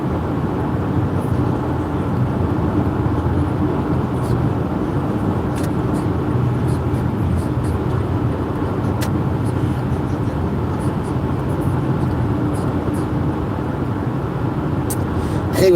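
A car cruising steadily on a road with patches of snow and ice, a continuous broad tire and engine roar heard from inside, with a few faint clicks and a voice speaking now and then.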